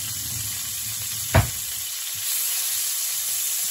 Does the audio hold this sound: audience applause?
no